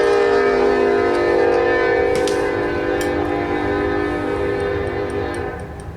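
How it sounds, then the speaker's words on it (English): A train passes nearby, its horn blaring in a long, loud sustained tone over a steady rumble that fades slightly at the end. "there's a train again"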